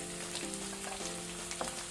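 Onions frying in hot oil with urad dal and curry leaves for egg fried rice give a steady, soft sizzle over a faint background hum, with small crackles now and then.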